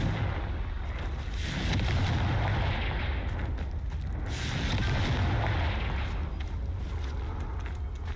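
Confringo fire blast spells from the game Hogwarts Legacy go off in a string of heavy booming explosions with rumbling blasts and crackling debris, loud and continuous.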